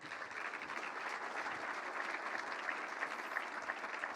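Crowd at the announcement of the 106th Rose Queen gives a sustained round of applause, a dense even patter of many hands heard from a distance at low volume, unbroken by speech.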